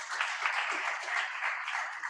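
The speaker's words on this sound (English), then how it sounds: "A round of applause to the speakers" A conference audience applauds the speakers after a country briefing session on China, a dense, even wash of clapping that holds steady for a couple of seconds.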